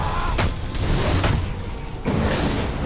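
Explosions from the video game Batman: Arkham Origins: several loud, broad booms in quick succession, each bursting and decaying over a steady rumbling game soundtrack.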